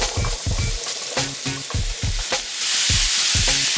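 Cubed butternut squash fries in a pan with chorizo and spices, giving a steady, bright sizzle broken by regular scraping knocks of stirring.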